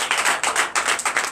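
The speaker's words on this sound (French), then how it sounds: "Donnez l'acclamation à Jésus." A church congregation at a Sunday worship service in Benin claps together in a quick, rhythmic burst of repeated sharp claps, close and loud, with no talking.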